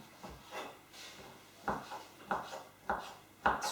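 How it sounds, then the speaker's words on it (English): A knife chops and dices chicken breast on a board in a kitchen, making a few soft, close, irregular taps against the wood with quiet pauses between them and no talking. "I'm just chopping it, dicing it up"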